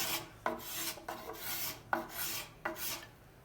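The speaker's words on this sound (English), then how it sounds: "This convex one can be drawn cross grain in here, smoothing it out before you go to sandpaper." Convex cabinet scraper drawn across the grain of a wooden guitar neck at the heel transition, giving four rhythmic rasping strokes, each starting with a sharp catch and trailing off, close and fairly quiet with no voices.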